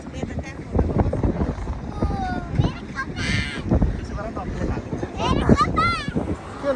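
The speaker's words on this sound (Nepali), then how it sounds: "अब आयो यस्तो हावा आउनेवाला छ" Wind gusts buffet the microphone at an outdoor wildlife park, making a steady rumbling roar throughout while people talk over it.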